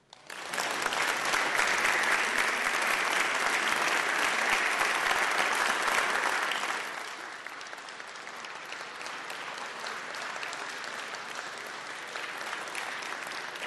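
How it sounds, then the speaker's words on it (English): A round of applause fills the House Chamber, loud and sustained for several seconds, then tapers to a lighter, thinner clapping that continues to the end. "I would really appreciate my colleagues giving them a round of applause and a warm welcome"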